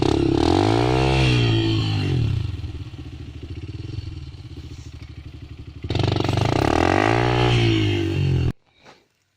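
A Honda CRF 150 or KLX enduro motorcycle climbing a steep, rough hill: loud, close engine revving that surges, dips to a strained lower drone, surges again, then cuts off abruptly.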